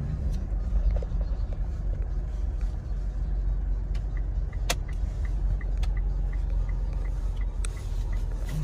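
A car is parked outside. The engine rumbles steadily and low throughout, with occasional small clicks and taps nearby and no talk.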